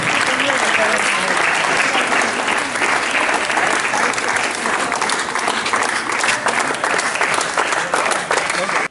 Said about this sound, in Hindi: सबका ताली बजना चाहिए